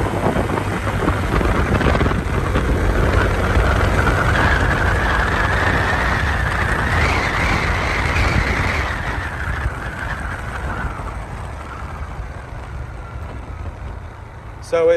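A 2022 Honda PCX scooter accelerating hard through a city block, its engine drone rising steadily in pitch over several seconds and then easing off, loud and close, with broadband wind noise throughout.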